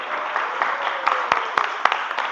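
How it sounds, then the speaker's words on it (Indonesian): A vocational automotive class applauds briefly, a light, scattered patter of clapping with a few sharper individual claps, moderately close. "tepuk tangan dulu"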